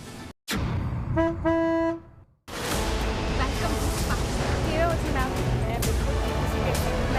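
Two short, bright horn toots sound after a brief cut, then dense road and traffic noise continues steadily.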